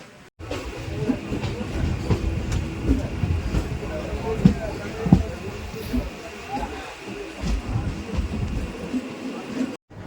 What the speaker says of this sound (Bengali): আর আমাদের ট্রেন এখন ঢুকছে আস্তে আস্তে টালার দিকে মানে টালা স্টেশনে ঢুকছে